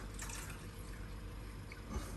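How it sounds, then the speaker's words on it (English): Steady wash of water running down through reef aquarium plumbing, a constant close rushing and trickling flow with no talk over it. "so you could hear the water running down."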